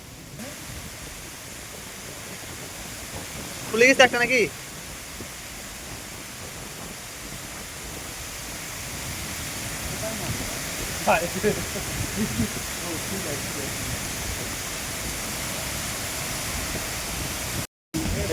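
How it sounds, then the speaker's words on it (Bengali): Heavy rain pours steadily on a fishing trip, a dense, even hiss that fills the whole stretch. Voices speak briefly over it a couple of times. "এত বৃষ্টি হচ্ছে"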